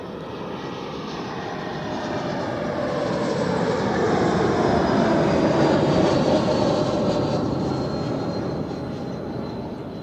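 A jet airliner lands at Zurich Airport, its engine roar swelling steadily and loud as it passes close by, then slowly easing off, with no voices over it.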